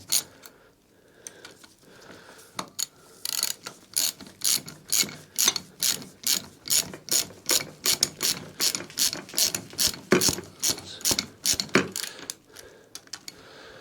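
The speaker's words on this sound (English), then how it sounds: "hold it with the 19 and turn with a H6 and watch what's going on." A ratchet turns a front strut nut on a Ford Focus MK1 through an H6 bit while a 19 spanner holds the nut. After a slow start, it gives a close, steady run of sharp, rhythmic clicking bursts.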